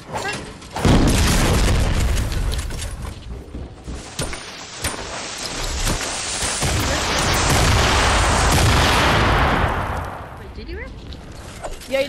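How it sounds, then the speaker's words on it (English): Gunfire crackles during a Fortnite match: rapid sharp shots and booming blasts over a dense, continuous background of game noise, swelling louder through the middle and then fading. "No, someone is shooting there."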